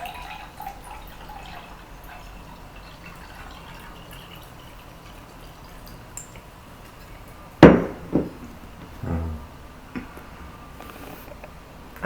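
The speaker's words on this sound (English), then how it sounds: "when you add water to this glass" Water is poured into a drinking glass, giving a short burst of splashing and gurgling a few seconds long against a quiet room background.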